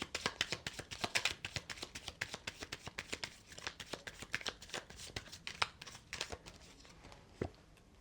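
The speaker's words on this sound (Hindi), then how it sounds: "मैं आपके लिए कार्ड निकाल लेती हूँ।" Tarot cards being shuffled by hand, producing rapid bursts of crisp riffling flutters and soft slaps, close and fairly quiet, with a final card drawn near the end and no speech.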